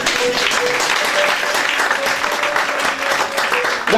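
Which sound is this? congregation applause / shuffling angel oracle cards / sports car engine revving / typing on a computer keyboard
congregation applause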